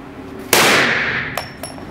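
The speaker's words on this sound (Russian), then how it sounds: "как я стрелял из пистолета Desert Eagle" A single loud Desert Eagle pistol shot cracks close by and rings out over about a second, followed by two faint metallic clicks.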